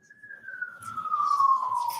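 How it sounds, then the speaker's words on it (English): A single siren tone sweeps slowly downward and grows louder as it approaches, clear and fairly close, with faint background rustle and a little muffled noise underneath. "those sirens come up fast"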